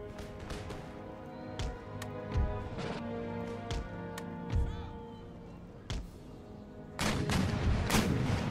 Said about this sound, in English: Let my artillery open fire however they see fit.